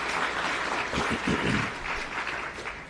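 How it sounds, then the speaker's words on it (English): An audience at a county fire chief swearing-in ceremony gives a sustained round of applause, a dense and even wash of clapping that tapers slightly toward the end. "Oscar, join me in giving Oscar a round of applause as well."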